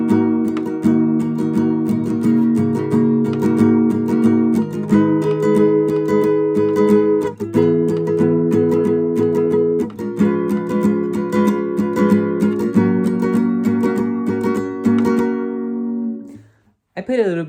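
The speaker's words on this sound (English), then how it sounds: "So the intro sounds like this." Slowed guitar intro chords from a song, played as a steady run of strummed chord changes on a close, loud guitar that stops abruptly near the end.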